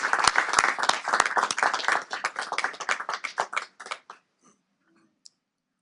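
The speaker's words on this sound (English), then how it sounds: "Take a moment just to applaud John's actions on here" A room of people at a legislative meeting applauds, a lively burst of many hands clapping that thins into a few scattered claps and then falls silent.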